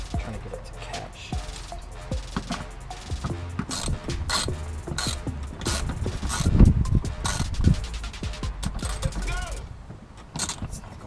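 A license plate frame bolt on a Subaru BRZ is worked into its threads, giving repeated close metallic ratcheting clicks and scraping, busy and continuous throughout.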